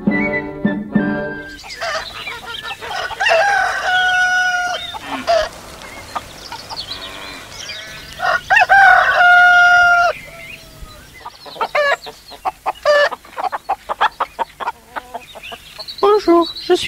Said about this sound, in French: Bonjour, je suis le coq. J'habite dans cette ferme.